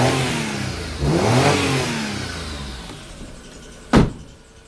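A Daewoo Matiz car engine runs to warm and circulate its oil, a steady mid-pitched hum with a brief rise in revs, then settling back, close by, with a short sharp knock near the end.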